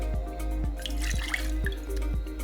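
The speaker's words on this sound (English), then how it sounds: "we're gonna pour this right into our Boston shaker" Disaronno amaretto poured into a Boston shaker, a steady close liquid trickle with small drips over a low constant hum.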